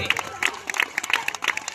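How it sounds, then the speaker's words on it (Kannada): Spectators clapping at a kabaddi semifinal match, a brief patter of applause with a voice talking over it. "ಒಂದು ಬಾರಿ ಜೋರಾದ ಚಪ್ಪಾಳೆ ಪ್ರೇಕ್ಷಕರ, ಜೋರಾಗಿ ಚಪ್ಪಾಳೆ ಬರಲಿ."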